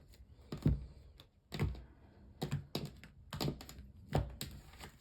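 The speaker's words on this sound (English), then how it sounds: "One more shuffle, then we'll cut up the deck" A deck of tarot cards is shuffled close up in a series of quick riffling bursts, each a short papery flutter with soft taps between them.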